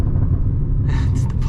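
A Porsche 981 Cayman GTS on a road drive in its most aggressive setting rumbles low and steady, then its exhaust crackles and pops in a few sharp bursts near the end.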